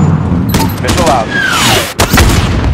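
Missile launch and impact in the Call of Duty MW4 campaign, a rising whoosh followed by a booming hit amid continuous loud gunfire and battle noise, with voices shouting over the combat.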